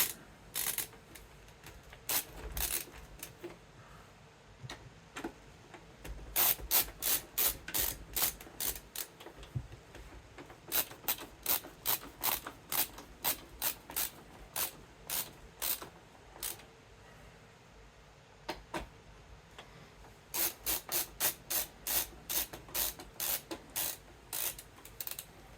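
A small tool tightens screws back into the drive of an original Xbox with quiet, rapid ratcheting clicks in short bursts and brief gaps between screws.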